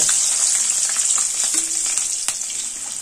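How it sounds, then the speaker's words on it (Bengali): Rohu fish pieces fry in oil in a pan, a loud steady hissing sizzle with a few soft knocks and clicks, gradually easing slightly toward the end. "ঠিক একইভাবে বাকি 3টে মাছও ভেজে নেব"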